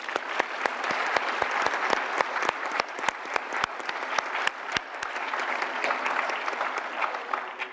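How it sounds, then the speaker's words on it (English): A university audience applauds steadily, sharp individual claps ringing out over a dense wash of clapping that holds for several seconds. "please join me in a round of applause"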